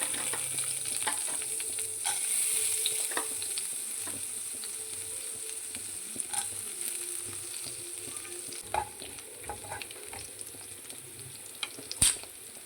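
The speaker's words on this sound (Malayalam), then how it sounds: "പാനിലേക്ക് എണ്ണ ഒഴിച്ചു കൊടുത്തിട്ടുണ്ട്. അതിലേക്ക് നമ്മൾ കടുക് ഇട്ട് കൊടുക്കുന്നുണ്ട്." Mustard seeds and urad dal frying in oil in a pan, giving a continuous close hiss with scattered pops and crackles and a few sharper spits toward the end, without any voices.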